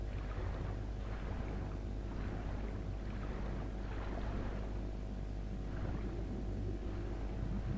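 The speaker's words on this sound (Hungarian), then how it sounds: "Itt egy hajó." A boat engine in the video game Far Cry 4, a low steady drone with wind and water noise over it, faint and continuous throughout.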